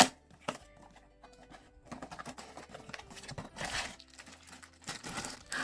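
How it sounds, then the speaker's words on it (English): Close crinkling and snipping as scissors cut through packaging tape on a toy set box, irregular bursts of crackle and rustle with short pauses between. "So let's get the trusty scissors in there"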